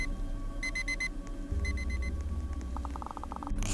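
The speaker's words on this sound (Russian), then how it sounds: "О, будильник зазвонил." An alarm clock going off in the Roblox game Daycare Story, repeated bursts of rapid electronic beeping in groups, followed by a lower pulsing beep pattern over a low background hum.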